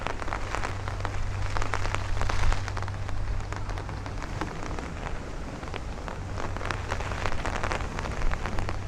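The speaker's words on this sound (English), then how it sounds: "that very heavy torrential rain is making its way across" Heavy torrential rain pours during a thunderstorm on a Brooklyn street in Bay Ridge, a dense, loud, continuous patter and hiss of drops with a low steady rumble underneath.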